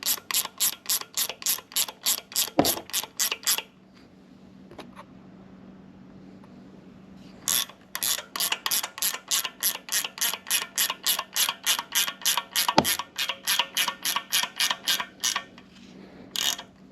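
Tightening a part on an LS engine valvetrain with a ratchet: loud, rapid clicking bursts in two long runs, with a pause in the middle, close up and with no talking.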